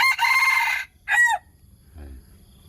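A rooster crows loudly and close by, one full cock-a-doodle-doo followed by a short second call, then a faint low cluck.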